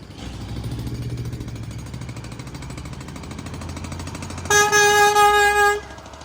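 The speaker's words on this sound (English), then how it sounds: "Honk your horn!" A truck rumbles steadily for several seconds, then its air horn blasts once, loud and near, holding for over a second before cutting off.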